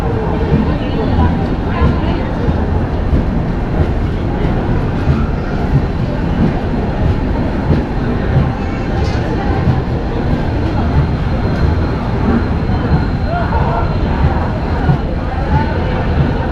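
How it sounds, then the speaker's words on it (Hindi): A passenger train, the Hazrat Nizamuddin–Trivandrum Central Express, pulls into Mathura Junction station with a continuous, dense rumble and rattle throughout, and voices murmur in the background. "हमारी ट्रेन पहुंच गई है मथुरा जंक्शन"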